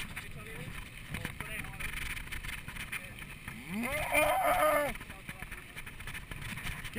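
A cow moos once at mid-distance, a rising, drawn-out low call over a faint outdoor background, with people talking in Spanish around it.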